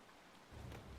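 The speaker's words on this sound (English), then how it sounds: "It's starting to rain now, which means it's boggy ground" Rain begins falling in a World War II strategy video game, a faint soft hiss that swells partway through into a steadier patter.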